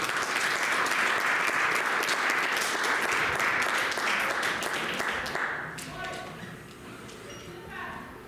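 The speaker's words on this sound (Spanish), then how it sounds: "Denle un aplauso al Señor." A congregation applauds the Lord at a church service, dense steady clapping filling most of the stretch before thinning out and fading while a voice starts to speak.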